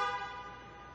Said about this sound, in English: Horn honk symbolizes that tire's been learned.